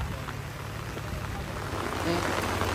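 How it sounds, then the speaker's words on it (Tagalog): Steady, heavy rain roars close by in Leyte, Philippines, as a dense wash of noise, with a low rumble underneath and no pauses throughout. "Lakas ng ulan"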